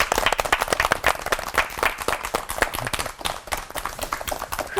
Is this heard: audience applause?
yes